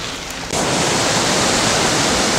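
Wright Creek Falls, a small waterfall near Marquette, Michigan, gives off a loud, steady rushing hiss that swells up suddenly after a brief quieter moment and then holds constant.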